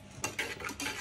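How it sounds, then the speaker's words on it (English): Lemon curd ingredients and sugar being mixed by hand, with a few short scraping stirs of a utensil against a bowl, close and fairly soft, and no talking. "Now let's mix. Nice and smoothy."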